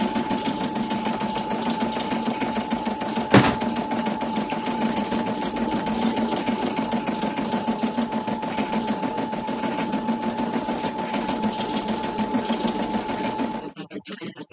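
An embroidery machine stitches out a long-tailed feather design in a fast, even mechanical chatter with a steady hum, running continuously before slowing to a stop near the end.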